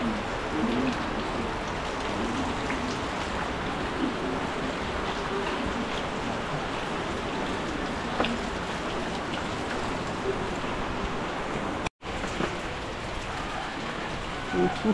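Heavy rain pours steadily at Bukana, a dense unbroken hiss of water across the whole stretch, with a brief dropout near the end and faint bird calls mixed in.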